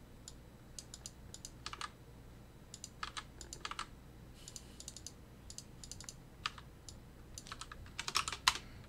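Computer keyboard keys pressed for Alt key shortcuts while working in a web browser, a quiet run of scattered clicks and short tapping bursts that grows busier toward the end, heard alone without talk.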